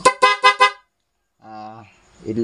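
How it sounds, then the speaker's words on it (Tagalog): A car horn, a newly installed PIAA horn, honks three quick times in a row, then after a pause a lower horn sounds once before a voice begins speaking. "High, busina natin."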